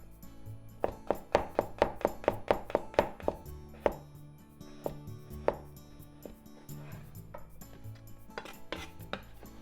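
A knife cuts garlic into thin slices on a board in a quick, even run of close taps, followed by a few slower, scattered cuts.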